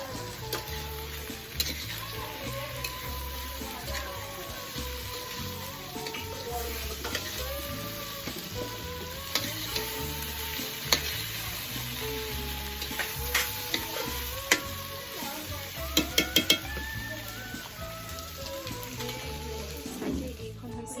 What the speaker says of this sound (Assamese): খাহী মাংস লৰাই আছোঁ